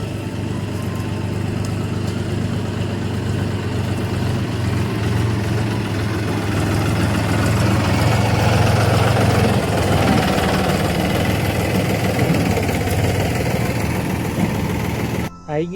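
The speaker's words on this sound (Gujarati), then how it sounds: "આવી રહ્યું છે ટ્રેક્ટર." A tractor engine runs in a continuous low chugging drone that grows slightly stronger as it draws near on a rough road, steady and fairly loud throughout.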